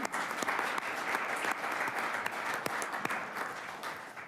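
A city council chamber audience applauds a fire chief, a steady round of many hands clapping continuously at moderate distance with no voices over it.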